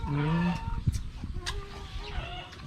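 Chickens clucking nearby, with short rising calls and a few sharp squawks over faint background noise.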